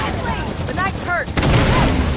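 Rapid bursts of gunfire crackle through a firefight in Halo 5: Guardians on Legendary difficulty, with whooshing weapon effects and voices calling out over the shooting.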